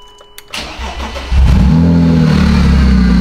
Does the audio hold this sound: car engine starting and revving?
yes